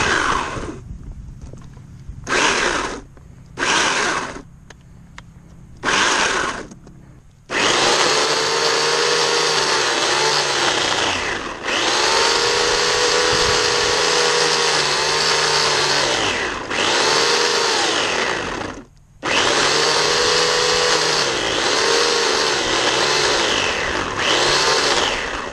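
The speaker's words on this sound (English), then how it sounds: "I'm cutting a little bit below ground level. I don't want to get into the dirt and ruin my chain." A chainsaw cuts tree shoots just below ground level outdoors, loud and close, first revving in short bursts, then running long sustained cuts with brief drops in pitch and a few pauses.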